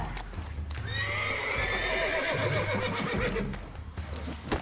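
In The Witcher 3 video game, a horse gives a loud, drawn-out neigh close by, with hooves clopping beneath it.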